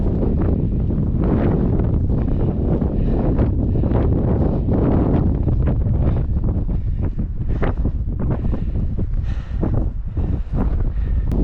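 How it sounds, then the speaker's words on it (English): Strong wind buffeting the microphone on a mountain saddle near Clark Peak in State Forest State Park, a loud, continuous roaring rumble with gusty surges throughout, alone with no talk. "it's getting a little windy here"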